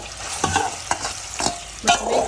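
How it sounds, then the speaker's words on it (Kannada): Prawns frying in hot oil with chilli powder and salt, a loud close crackling sizzle broken by several stirring scrapes, no talk. "ಇಲ್ಲಿ ಎಣ್ಣೆ ಕಾಯಕ್ಕಿಟ್ಟಿದ್ದೀನಿ ಇದಕ್ಕೆ ಪ್ರಾನ್ಸ್ನ ಹಾಕ್ಕೊತೀನಿ"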